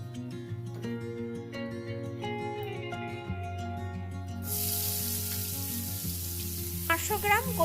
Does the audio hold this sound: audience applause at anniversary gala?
no